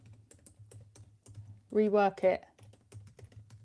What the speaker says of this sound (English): Not typing in the right place.